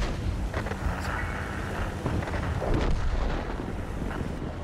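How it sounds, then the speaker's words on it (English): Artillery shells boom in World of Tanks during a battle across a field, with heavy low rumbling blasts and gusty noise filling the scene, loud and continuous without talk. "We got artillery flying out too."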